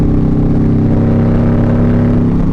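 A loud, deep Harley-Davidson Street Glide engine with an aftermarket Burns exhaust rumbling steadily up close, with a throaty low-pitched exhaust drone throughout.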